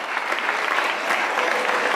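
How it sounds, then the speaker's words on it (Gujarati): An audience at a Gujarati religious gathering breaks into dense, sustained applause, many hands clapping loudly and evenly throughout the short burst. "તો હજુ એકવાર જોરદાર તાળી કમિટી માટે"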